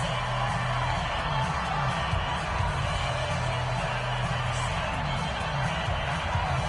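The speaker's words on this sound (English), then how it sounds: "the crowd getting into it as we come up on a big 3rd down" A stadium crowd in an American football video game roars and cheers continuously, a dense, even swell of many voices that holds steady at fairly high volume throughout.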